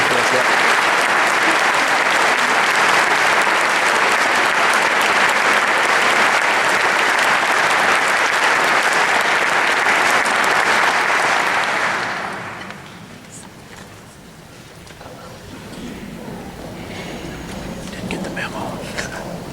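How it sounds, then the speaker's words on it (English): Audience applause at a high school all-state choir concert, loud steady clapping from a large crowd for about twelve seconds before dropping to a lighter, scattered patter. "Please give them a round of applause."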